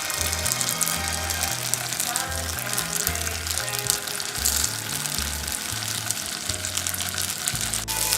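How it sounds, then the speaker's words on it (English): Sliced tofu frying in a pan, a dense continuous sizzle and crackle held at an even, fairly loud level close by, with no talking over it. "tofu is cooking"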